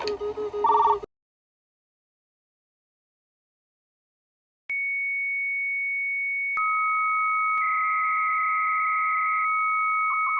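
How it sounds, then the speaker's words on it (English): A brief burst of sound, then silence, followed by a modem's answer tone: a steady pure electronic tone that shifts into a two-tone pattern with a warbling segment, clean and sustained. "They answer with a tone that other computers can recognize."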